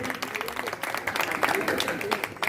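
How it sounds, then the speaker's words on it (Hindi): An audience at a Valmiki Jayanti gathering applauds to welcome a performer, steady dense clapping sustained throughout, with some voices mixed underneath. "एक बार जोरदार तालियों से स्वागत करेंगे"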